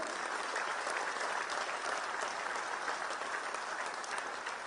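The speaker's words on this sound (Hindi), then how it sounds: "निहारिका सिंह, प्रिंस धवन, विश्वेंद्र जी, आप सबके लिए तालियां कम है भाई।" Audience at a live Delhi government event gives sustained applause, a dense even wash of many hands clapping that continues steadily, faint and distant, with no talk over it.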